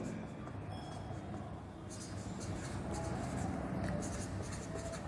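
Pen or marker strokes scratch across a board or paper in short, irregular bursts, faint and close, with a person speaking over them at times.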